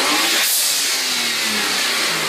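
A voice imitates a turbocharged car's blow-off valve, making a loud, close, breathy hissing whoosh that holds steady for about two seconds.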